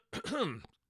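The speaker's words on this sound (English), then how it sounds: "clearing my throat." A single short throat clear from one man, a close, gruff rasp lasting under a second in a quiet studio.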